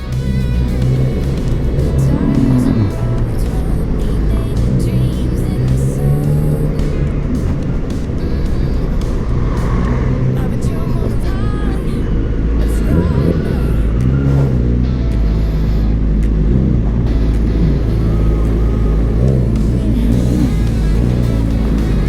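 Steady car engine and exhaust drone while driving a Dynamax on a trip from Calamba to Makati, low and continuous throughout with no speech, the exhaust kept fairly quiet.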